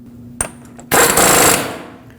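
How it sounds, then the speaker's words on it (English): A short click, then a loud half-second rattling burst of a pneumatic impact wrench tightening the front axle nut of a 2006-2015 Lexus IS250, fading quickly in a quiet workshop. "I'm going to use a power tool to snug it up"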